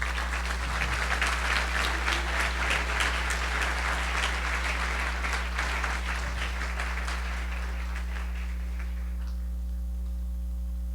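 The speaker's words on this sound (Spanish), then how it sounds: "Denle un aplauso al Rey" Church congregation applauding during a Spanish-language service, a dense, steady wash of clapping that fills most of the clip over a constant low electrical hum, then tapers off near the end.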